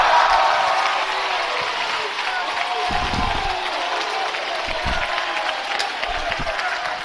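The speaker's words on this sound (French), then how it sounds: "Applaudissez le Seigneur." A church congregation claps and cheers in praise during a French-language sermon, a broad crowd applause that is loud at first and continues more steadily with a few heavier bursts.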